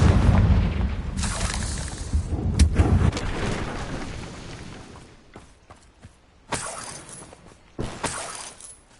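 A Confringo fire spell explodes in Hogwarts Legacy with a loud booming blast and crackling debris, followed by several sharper impact bursts that fade in between.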